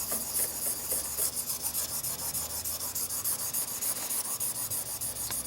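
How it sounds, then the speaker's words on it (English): A Blum plane blade is honed on a sharpening stone in steady, rhythmic back-and-forth strokes, a close, gritty scraping rasp repeating roughly twice per second with no talking. "We're still at 32 degrees, so we'll just start honing."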